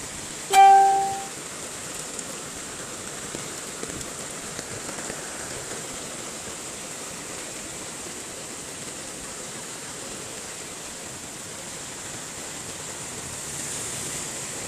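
Heavy rain pouring down in Gonzaga amid flooding, a dense steady hiss throughout, with a short sharp tone near the start.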